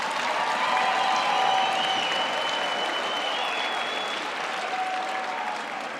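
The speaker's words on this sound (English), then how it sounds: "Please give them a hand of applause." Steady applause from a large graduation ceremony audience at UP, honouring the lecturers, dense and sustained for several seconds with faint crowd murmur beneath, easing slightly toward the end.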